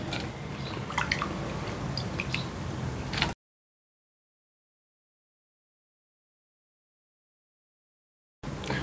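Thinly sliced potatoes for crispy aloo pakora tipped into a sieve, water splashing and draining in a continuous wet pour for a few seconds before cutting to silence, with a brief return at the end.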